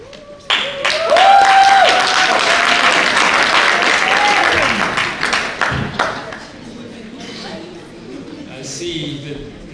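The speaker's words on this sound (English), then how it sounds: "I see the cheering is now on like Donkey Kong" Cheers and whoops rise over loud applause from an audience at a 2023 Siyaphumelela Conference session at the University of the Free State, lasting several seconds before thinning out as a voice begins speaking.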